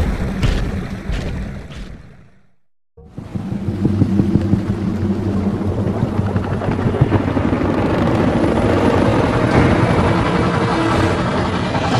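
Military choppers in the video game Gears of War Ultimate Edition, a loud continuous rotor roar and rumble that cuts out briefly and then returns steadily, dominating the whole stretch.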